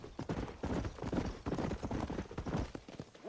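Horse hooves clip-clop steadily at a trot while riding in Red Dead Redemption, a continuous close rhythmic patter with no talking over it.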